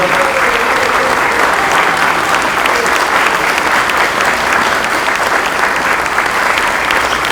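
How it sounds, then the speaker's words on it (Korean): Steady, loud applause from the assembled members of the Democratic Party's 21st National Assembly members-elect meeting, held after the vote for Deputy Speaker candidates, filling the room without a break. "여러분 뜨거운 축하와 그리고 박수를 부탁드리겠습니다"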